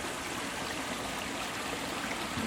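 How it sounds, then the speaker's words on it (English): Rushing river water swollen by California rains, a steady broadband roar of flowing water close by, continuous and loud with no pauses and no voices. "You can see there's water moving down there and over there. See, still water, and it starts to rush here."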